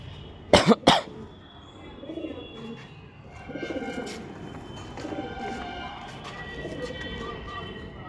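Pigeons cooing softly in a loft of fancy pigeons, low murmuring coos that keep rising and falling under faint chirps, with a couple of sharp coughs near the start.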